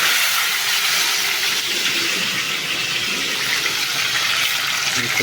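Peeled eggplant in hot oil makes a loud, continuous sizzling hiss that stays even and dense throughout, close by, with no voices.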